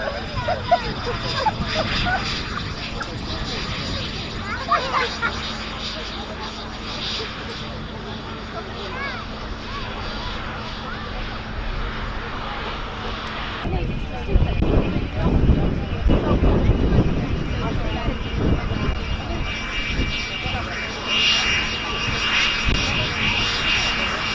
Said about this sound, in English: RAF pilot and great classic jet enthusiast, and Mark Patrick bringing that into land.